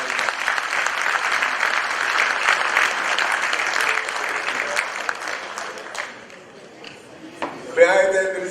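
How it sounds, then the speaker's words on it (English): An audience at a bar association conference in Liberia applauds loudly and steadily for several seconds, then the clapping thins out and a voice speaks faintly near the end. "Please, another round of applause"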